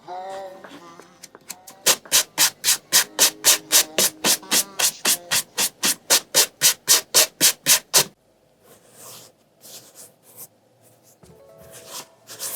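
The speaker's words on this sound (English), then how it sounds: "So now I'm gonna bring this nap up as carefully as I can and decide if we can try sandpaper or just re-dye." Sandpaper rubbed across the nap of stained fabric in quick, even back-and-forth strokes, about two dozen close, rasping scrapes in steady rhythm, followed by quieter scattered handling sounds.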